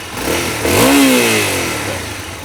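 A motorcycle engine revs hard with the clutch pulled in, rising from a low idle to a loud, sustained roar and then easing back down, heard up close with no other sounds.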